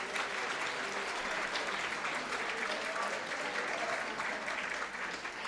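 Audience applause at a board meeting, with steady, full clapping that sustains evenly without a break.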